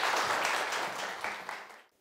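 An audience at a parenting talk concert in Daegu applauds with dense, close clapping that holds steady, then fades out at the end.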